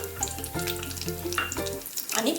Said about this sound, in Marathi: ते सगळं तुपामध्ये फ्राय करून घ्यायचं